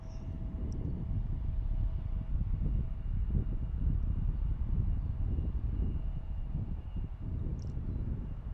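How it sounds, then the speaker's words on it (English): A United airliner arriving from Denver lands on runway 36 center, its steady, broadband engine roar rumbling continuously at moderate distance with wind noise and no speech. "That's the United flight from Denver, I think. Landing on 36 center."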